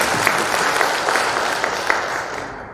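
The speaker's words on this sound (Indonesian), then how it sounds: "Tepuk tangan untuk beliau." Applause from an audience at a political event in Blitar Regency, Indonesia, a steady wash of clapping lasting a few seconds with no voices over it.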